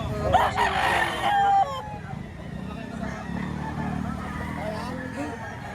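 A rooster gives a loud, close crow at a busy Batangas chicken market, followed by steady crowd murmur and distant voices.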